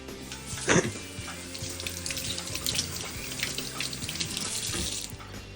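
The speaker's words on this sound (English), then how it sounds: "I'm just gonna rinse these few mushrooms." Tap water runs steadily into a kitchen sink as a few mushrooms are rinsed for a fresh egg omelette. There is one brief clatter early on, then a continuous close splashing stream with no talking.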